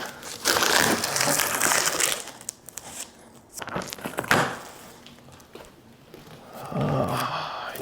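Cardboard packaging around a Humpter B3 mobile DJ table is cut and torn open, giving irregular bursts of crunching, ripping and crinkling at close range, with pauses between the tears.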